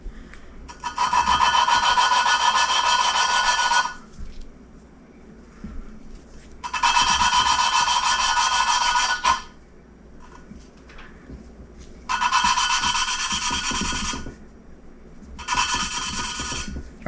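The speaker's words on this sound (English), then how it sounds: "as this starts to grind, the actual grit will go from a coarse grit to a finer grit" Engine valve being lapped by hand with lapping compound, producing four bursts of gritty rasping grind separated by short pauses, close and loud with no talk.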